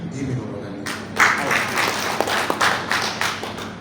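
Audience applause at a closing speech event in Makassar, a burst of clapping rising after a moment and carrying on steadily, with voices in the crowd underneath.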